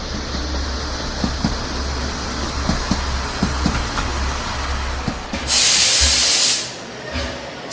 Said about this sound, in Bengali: স্টেশনে ট্রেন থামতেই হেডকোর্ট পড়া সুরনাথবাবু নেমে পড়লেন।